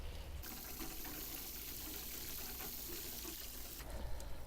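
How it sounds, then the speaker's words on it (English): Water pours steadily onto garden soil in a freshly dug planting hole for muscari and tulips, a continuous close splashing gush that runs almost unbroken for the whole stretch, with no talking. "I just wanted to give that a good watering in before I continued filling the hole."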